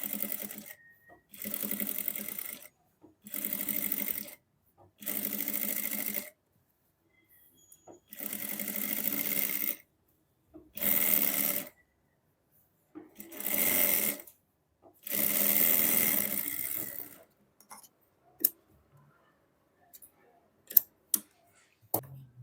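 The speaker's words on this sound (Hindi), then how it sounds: "यहाँ पे किनारे की सिलाई लगानी है" A sewing machine runs along the edge seam of a kameez in repeated bursts of steady, close stitching, with quiet gaps between runs and a few sharp clicks near the end.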